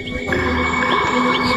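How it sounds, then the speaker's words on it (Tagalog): Forest ambience on Mount Makiling with an unusual bird call, repeated whistling tones over a steady drone of insects. "Sa pagpapatuloy namin ay may narinig kaming kakaibang huni ng ibon."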